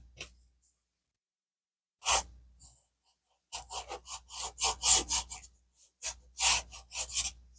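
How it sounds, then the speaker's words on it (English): Sandpaper rubs over a handmade craft snowman picture in short, dry rasping strokes. A brief scrape comes first, then a quick run of close, quiet back-and-forth rubs with small pauses between them. "A little hard to sand."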